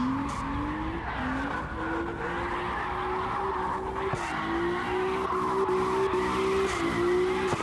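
A small race car launches hard and drifts at a qualifying round, engine notes climbing through rapid gear shifts while the tires squeal loudly and continuously, close and dominant for several seconds.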